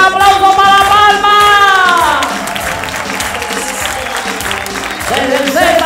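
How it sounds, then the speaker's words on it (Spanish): Audience applause fills a gala hall in La Palma during a comedy show, loud and dense throughout, with a shouting voice and whistle-like tones over the clapping early on. "¡Un aplauso para La Palma!"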